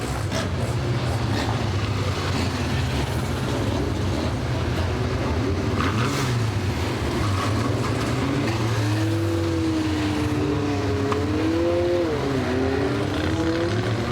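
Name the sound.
stock cars racing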